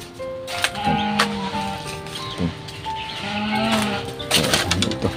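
Loud goat bleats and calls ring out repeatedly in an outdoor farm setting, with several overlapping cries and steady background noise.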